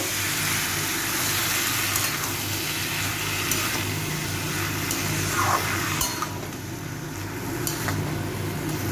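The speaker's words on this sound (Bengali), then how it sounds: "সব মশলার সাথে মোচাটাকে আরও 5 মিনিট একটু ভালো করে কষিয়ে নেব" Chopped banana flower fries with spices in a pan, giving a steady sizzle with occasional clinks of a utensil against the pan, continuous and close.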